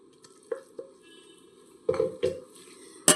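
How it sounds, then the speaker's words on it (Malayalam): Corn masala stuffing with finely chopped onion and coriander leaves mixed by hand in a bowl for stuffed chapati: soft squelching and stirring rustles with a few sharper clinks and bumps, fairly close and quiet, no talking. "നന്നായി മിക്സ് ചെയ്യുക കൈകൊണ്ട് നന്നായിട്ട് മിക്സ് ചെയ്ത് കൊടുക്കുക"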